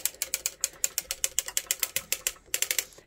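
A circular sock machine knitting a 48-stitch sock is cranked around, giving a fast, even run of crisp mechanical clicks and ratcheting ticks, close and clear, with a brief pause before the clicking resumes.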